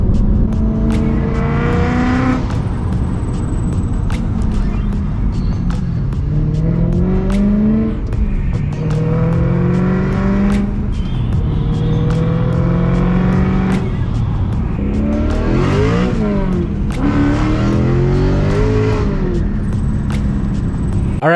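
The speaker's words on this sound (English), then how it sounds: "Little backfire for the boys." A supercharged BMW M3 engine revs repeatedly in rising and falling surges with sharp backfire pops, loud and close throughout.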